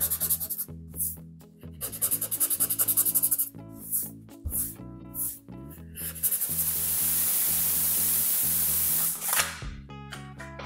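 Rhythmic back-and-forth scrubbing of 120 grit sandpaper over an HQ Holden's car body panel to scuff it for filler, in quick bursts of strokes, then a longer continuous hiss of sanding, close and loud.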